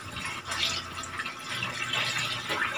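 Tap water running steadily into a large cooking pot for chicken odong noodles, a continuous splashing fill with no talking.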